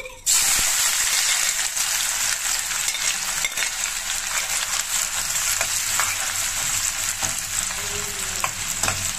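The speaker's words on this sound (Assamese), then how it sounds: "এয়া তেল গৰম হ'ল ইয়াত মই এই পিয়াজখিনি দি দিছো" Chopped onions sizzling and frying steadily in hot oil in a pan for a chital fish curry, a loud, continuous crackling hiss with occasional stirring scrapes and no talk.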